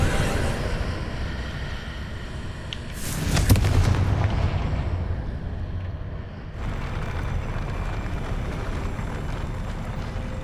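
A Confringo fire spell bursts in Hogwarts Legacy, a loud rumbling explosion that flares suddenly and then fades into a dense, roaring background of game combat noise.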